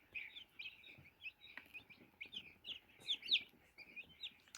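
Newly hatched bearded and crested chicks gather around water, their soft high peeping and chirping coming in short scattered bursts, faint and fairly close, with no talking over them.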